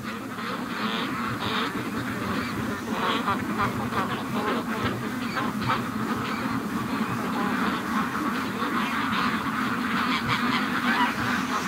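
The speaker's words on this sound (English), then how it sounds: "the Brant geese are down here with them too" A flock of Brant geese honks continuously, mixed with ducks, on an icy lake; steady overlapping calls at moderate distance.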